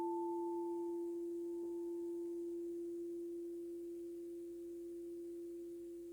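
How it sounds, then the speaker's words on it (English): Frosted crystal heart chakra singing bowl struck with a mallet, ringing in a pure sustained tone that slowly fades, faint and alone. "So this is a frosted heart chakra singing bowl."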